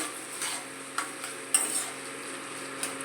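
Arum root paste stir-fried in plenty of oil for a spicy Bengali paste dish, a low steady sizzle with a few sharp spoon scrapes against the pan, fairly quiet and close, no voices.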